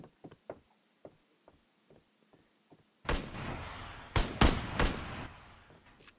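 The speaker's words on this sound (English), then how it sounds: "So let's see how this gun shoot, the new gun, SVD" Sniper rifle gunfire in the mobile shooter game Knives Out with the SVD, a run of sharp close shots after a series of light taps and clicks, each blast loud and punchy with short decay.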